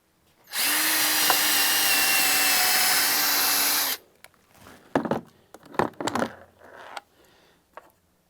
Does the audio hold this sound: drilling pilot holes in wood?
yes